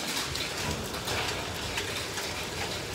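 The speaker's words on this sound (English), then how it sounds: "It just started hailing." Hail falling outdoors during a sudden storm, a dense, steady patter of ice striking surfaces close by, with a faint clicking texture throughout and no voices.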